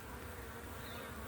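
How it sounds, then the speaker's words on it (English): A dense, soft buzzing of many bees flying into their hive at dusk in a bee yard, droning together close by and continuous, with no voices. "I just love looking at the bees coming in."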